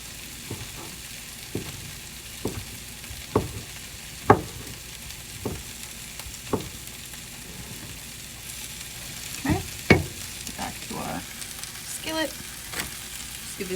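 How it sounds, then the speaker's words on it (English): Sliced steak sizzles in a skillet with a soft, steady frying hiss, punctuated by a dozen or so distinct scrapes and clacks of stirring spread across the stretch, with no speech. "Just give this a nice little mix."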